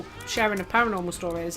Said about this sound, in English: You guys can hear her cat right now.